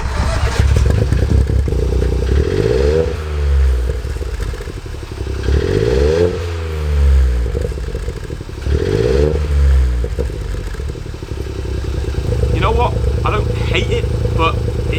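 A 1.0-litre EcoBoost engine in a rebuilt Ford Fiesta MK7 revs hard several times in a row, each rise and fall of the exhaust loud and close, with a rough idle between bursts.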